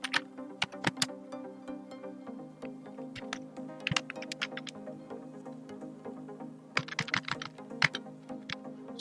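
Typing on a computer keyboard in an office word-processing program, irregular clusters of crisp key clicks with short pauses, close and fairly quiet.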